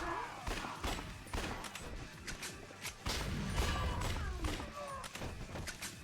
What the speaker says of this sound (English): And then we want to try to get some headshots here.